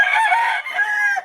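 A fighting rooster crows once, loud and close, in a hoarse drawn-out call of just over a second.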